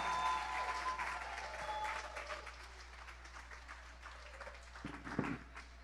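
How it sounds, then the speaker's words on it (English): Applause from a crowd at a leadership gala, clapping spread across the room and fading gradually, with a few louder claps near the end. "I need a bigger round of applause for the honor."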